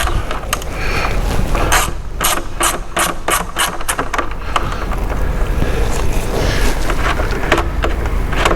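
A ratchet with a 10 mm socket loosens a bolt on the 3.5 engine of a 2018 Ford F150, giving bursts of quick clicking over a constant loud background rumble.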